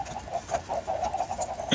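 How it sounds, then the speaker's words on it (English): Minecraft chickens clucking in the video game, a steady run of short, evenly spaced clucks close by, one after another for the whole stretch. "We've got our clucking legion of chickens."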